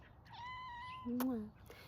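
A cat meows twice in quick succession, close by and fairly clear: a drawn-out mew followed by a shorter, higher one.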